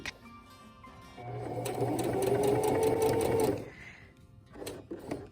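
Sewing machine stitches along the edge of a cloth napkin, a quick burst of loud, steady mechanical whirring for a couple of seconds, followed by faint handling clicks and rustles.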